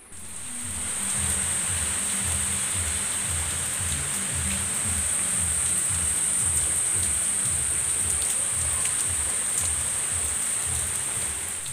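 Steady heavy rain pours down continuously, a dense even hiss with a faint high ringing tone above it and no voices, lasting throughout.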